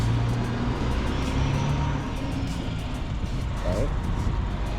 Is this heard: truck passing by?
yes